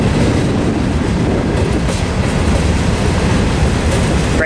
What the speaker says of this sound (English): Train's still coming across the 10 freeway.